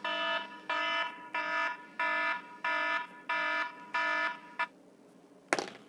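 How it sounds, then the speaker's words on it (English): An electronic alarm set as a back-to-work reminder beeps seven times in a steady rhythm, each tone about half a second long. It then stops, followed by silence and one sharp click near the end. "That's my go back to work soon alarm."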